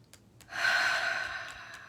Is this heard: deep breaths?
yes